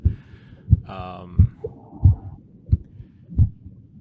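Heartbeat sound effect in a PS1-style horror video game: steady, loud low double thumps roughly every 0.7 seconds, with faint game tones and a brief burst of other noise between beats.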